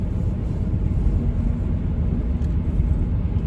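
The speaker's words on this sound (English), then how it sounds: "I got a Peterbilt dump truck behind me." Peterbilt dump truck driving behind on a road, heard as a loud, steady low engine and road rumble that fills the clip with no breaks, no talk.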